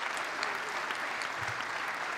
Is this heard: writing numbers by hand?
no